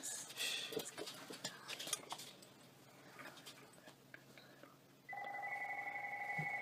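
A telephone bell begins ringing near the end, a sustained steady ring that follows quieter clattering and scattered sounds during outdoor work on a yellow jacket nest.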